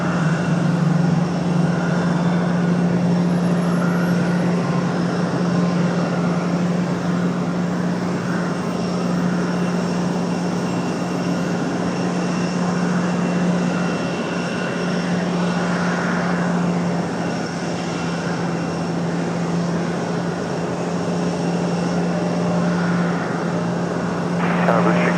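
A fixed-wing airliner drones steadily at Raleigh-Durham International Airport. The engine roar is loud and continuous, with a constant low hum and no break.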